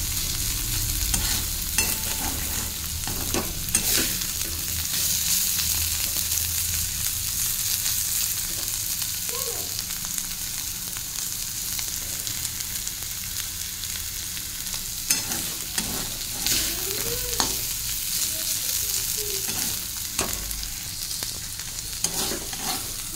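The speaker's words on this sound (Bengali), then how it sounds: "এই যে ভাজা হয়ে যাচ্ছে প্রায়, এবার নামিয়ে দেবো" Food fries in a pan with a loud, continuous sizzle while a spatula scrapes and stirs through it in irregular strokes, close and without any talk.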